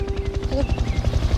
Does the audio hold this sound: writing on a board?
no